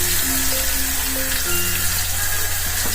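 Chopped onion sizzles in hot oil with asafoetida for a cashew curry, a steady, loud hiss that fills the whole stretch with no talking.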